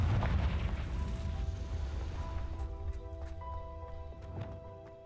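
Confringo fire spell blast in Hogwarts Legacy, a loud booming burst at the start that decays into a rumbling tail, with later pops and chiming game tones.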